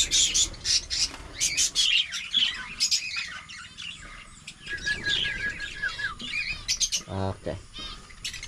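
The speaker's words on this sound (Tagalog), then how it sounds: "Kasi yung mga ibon naman natin yung pakainin natin." Birds squawk and chirp repeatedly beside a tilapia pond in the Philippines, a busy overlapping mix of sharp calls, some near and loud, with a short flutter and scattered voices in the background.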